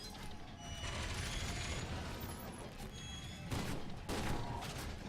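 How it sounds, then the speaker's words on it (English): Shock grenades going off during combat in the shooter game F.E.A.R. 2: a dense, crackling roar of gunfire and mechanical clatter, with two sharp, loud bursts near the end. "Shock grenades"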